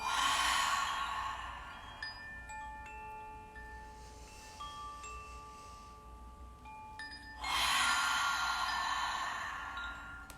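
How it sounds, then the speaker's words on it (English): Slow breathing during a yoga session, with long, soft airy exhales out through the mouth at the start and again near the end and a quieter stretch between, close and unaccompanied by speech. "exhaling out through the mouth, filling up as we breathe in"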